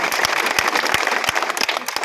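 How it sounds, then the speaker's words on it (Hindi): Loud, close, dense clapping from a crowd at a political rally speech in Moradabad, sharp hand claps popping out of a continuous roar of applause. "एक बार इनके लिए भी जोरदार तालियां हो जाए।"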